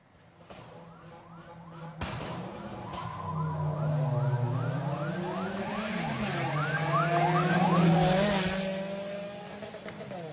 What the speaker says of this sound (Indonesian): Ketika balapan, lampu sirene menyala dengan suara yang meraung